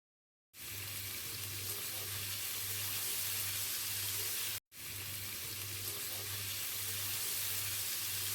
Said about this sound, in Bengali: এবার দিয়ে দিলাম কাঁচা কুচানো পেঁয়াজ সেটাকে ভালো করে লাল লাল করে ভেজে নিতে হবে